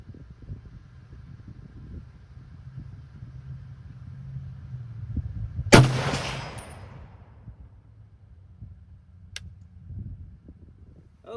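A single sharp, loud rifle shot from a Springfield M1C Garand with M82 scope, cracking once amid quiet outdoor ambience and trailing off in a brief echo.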